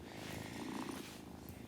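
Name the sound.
cat purring when petted in a video game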